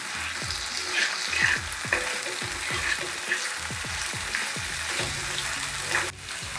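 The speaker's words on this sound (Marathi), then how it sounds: "आता कांदा चिरलेला घालत आहे, तो पण थोडा परतवून घेते।" Chopped onion fries in a pan close by for a Bombil fish bhurji, a busy crackling sizzle broken by repeated scraping stirs of a spatula, steady and fairly loud, with no speech.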